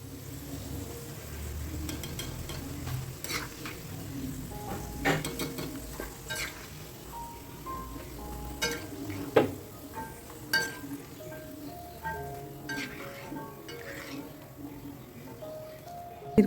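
Chana dal pakoda deep-frying in hot oil, a steady crackling sizzle with scattered clinks of a metal spoon stirring and turning the fritters in the pan, and a voice talking over it.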